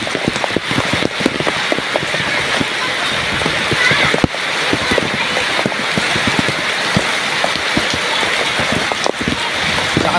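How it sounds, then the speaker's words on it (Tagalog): Heavy storm rain with strong wind pours down steadily, a dense, loud wash of close patter and scattered sharper drops that runs unbroken without speech. "Lakas ng ulan. Maghapon yata ito."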